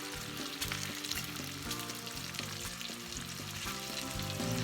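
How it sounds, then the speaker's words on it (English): Bacon sizzles and crackles steadily in a hot pan, with a dense, continuous frying hiss throughout. "the reason I'm frying it is to get all this bacon grease right here in one pan"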